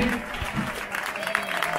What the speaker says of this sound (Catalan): Un fort aplaudiment pel Freddy